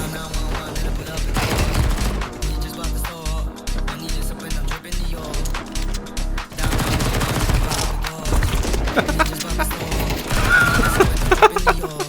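Rapid bursts of MP9 submachine gun fire in Counter-Strike, loud and repeated across the clip over a busy game mix with a dense low thumping backdrop.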